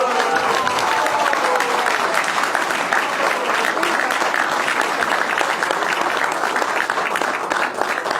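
An audience applauds after a talk, dense sustained clapping at steady loudness from a large crowd throughout.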